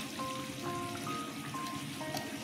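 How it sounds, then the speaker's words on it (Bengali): Fish curry simmers in a pan on a gas stove, giving a soft, continuous crackling bubble that stays even and quiet throughout with no talking. "দেখুন মাছটা কেমন ফুটছে।"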